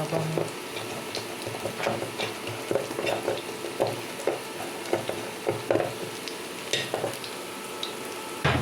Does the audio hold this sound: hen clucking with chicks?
no